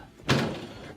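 A kitchen oven range's door swings shut with a single solid, close thunk that fades quickly, heard after its light socket is replaced.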